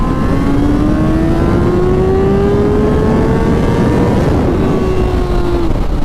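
A motorcycle engine revs loud and close, its smooth tone climbing steadily in pitch through one long pull, then easing off slightly at the end, with no voices.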